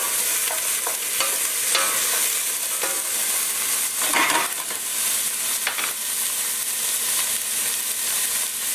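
Onion and celery frying in oil as a mirepoix for chicken soup, stirred in the pan: a steady close sizzle with scraping stir strokes and a louder burst midway, no voices.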